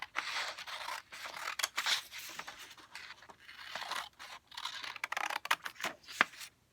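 Scissors snip through a photocopied photo of a church printed on paper, a run of quick, close, crisp cuts in irregular bursts with brief pauses.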